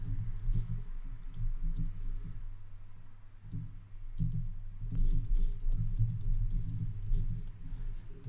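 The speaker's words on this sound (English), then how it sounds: "So we're going to come in here and type supercharge." Rapid typing on a computer keyboard, with irregular bursts of light clicks over a low steady hum, close and fairly quiet.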